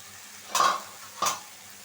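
Shrimp curry (chingri bhuna) being stirred as it fries in a pan, two short scraping stirs over a quiet sizzle, close and fairly loud.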